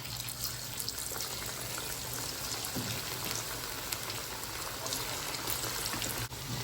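Chicken pakoda pieces coated with sesame drop into hot oil and fry with a steady, even hiss and fine crackling sizzle, moderately quiet and continuous, with no talking.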